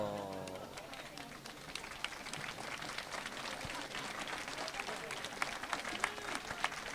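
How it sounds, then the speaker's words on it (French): Audience at a village event in Commenailles gives steady, moderately quiet applause, a continuous patter of clapping lasting the whole stretch with some voices mixed underneath. "On l'applaudit tout de même bien fort."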